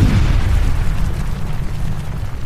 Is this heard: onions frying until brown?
no